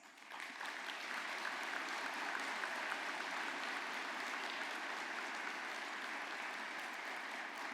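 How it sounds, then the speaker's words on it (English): Steady, sustained audience applause fills a hall for graduates at a fall convocation of education, humanities, math and science, and business schools, a dense wash of clapping that stays even from start to finish. "let's give them a heartfelt applause."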